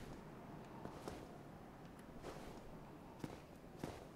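Footsteps approaching in the Dark Souls video game, a few soft, irregular thuds over a steady murky ambient hum, faint and spaced out, with no voices.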